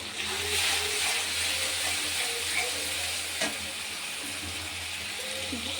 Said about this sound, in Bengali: এবার এটা দিয়ে একটু কষিয়ে নেবো।